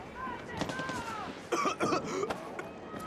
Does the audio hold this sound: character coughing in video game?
yes